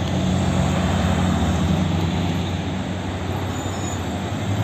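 Metro train pulling into a station on the Sergeli line in Tashkent, a loud, steady low rumble of wheels and motors with a thin metallic squeal riding over it throughout.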